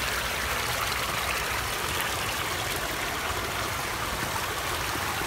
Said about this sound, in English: Finishing up this pondless waterfall. We just kicked on the water.